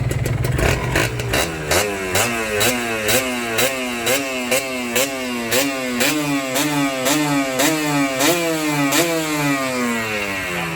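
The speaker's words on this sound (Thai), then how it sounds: "เสียงท่อเขานี่แบบเล้าใจมาก" Kawasaki KR two-stroke motorcycle engine revving through its exhaust, loud and close, with a rapid run of repeated sharp throttle blips that rise and fall in pitch over a buzzing idle.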